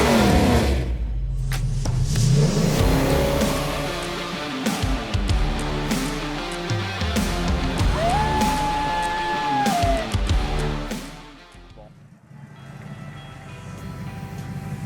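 A 1965 Ford Mustang convertible, a factory A-code four-barrel V8, revs and pulls away while driving, its engine note rising and falling through gear changes, loud and close with a brief lull near the end.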